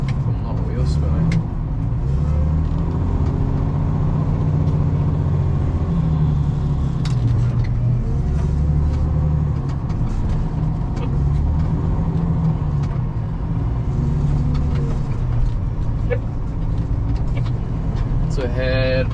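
A wheel loader's diesel engine rumbles steadily while screening topsoil, a loud, continuous low drone with shifting load throughout, a voice talking over it.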